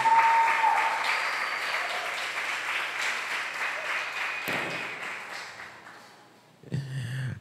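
A church congregation applauds at a worship service, a dense wash of clapping that slowly fades, breaks off briefly, then a short burst of sound returns at the end.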